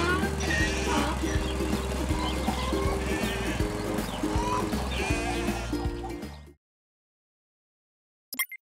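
Sheep bleat again and again in a strong, rhythmic run while being fed grain on a village farm, with chickens and geese gathering nearby; the din stops abruptly, leaving near silence with a brief faint sound at the end.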